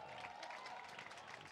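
Steady applause from a crowd at a ceremony, cheering a performance by the national police unit. Even, continuous clapping fills the whole stretch at a moderate distance, fairly quiet and without breaks.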